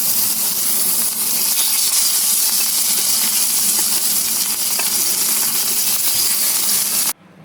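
A wok heating with oil for frying rohu fish gives a loud, steady hiss and sizzle that fills the whole stretch before cutting off abruptly at the end, with no voices.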